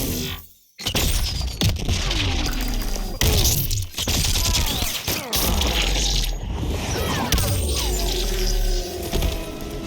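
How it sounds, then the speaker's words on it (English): Jacqui Briggs' super move in Mortal Kombat 11, a burst of gunfire with bullet ricochets followed by a kick smashing an opponent through a wall, loud dense crashes and impacts with a brief silent gap near the start. "I love the bullet ricochet followed by kicking them through the wall"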